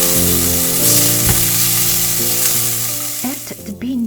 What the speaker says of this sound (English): Then add the garlic into the pan and cook for another 30 seconds.